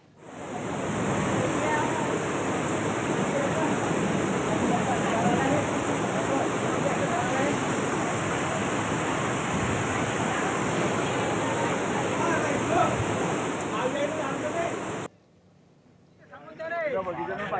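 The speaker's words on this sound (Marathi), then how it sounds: "नदीला पूर आल्यानं पुराचं पाणी खिरवड नेहते रस्त्यावरच्या पुलावरून वाहू लागलंय" Swollen floodwater from a river at Khirwad in Raver, Jalgaon, runs over a road bridge after hours of heavy rain, making a loud, steady roar that cuts out abruptly near the end.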